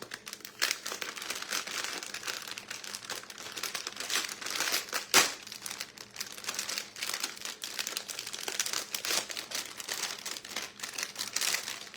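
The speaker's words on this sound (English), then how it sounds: "I'm going to put some foil on this tray." Aluminium foil crinkles and rustles continuously as it is spread over a baking tray, with sharp crackling bursts and one louder crunch partway through, close and fairly quiet.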